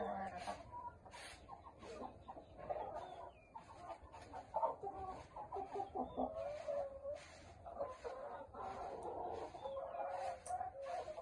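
Chickens in a sand-floored coop cluck and chatter softly while feeding, with overlapping calls coming at an easy, irregular pace and a few faint bird chirps behind them.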